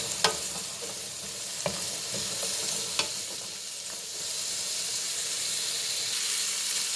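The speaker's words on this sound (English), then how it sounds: "Add the onions. Just to caramelize them just a little bit" Onions sizzle and fry in a pan for a Spanish-style beef stew, a steady hiss with a few sharp crackles and stirring clicks, close and continuous.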